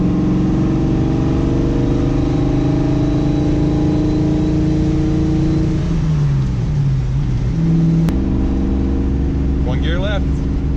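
A manual-transmission minivan's engine drones steadily and loud throughout, its pitch dipping and then climbing as the driver presses the pedal, with a sharp click near the end and people talking inside the cabin.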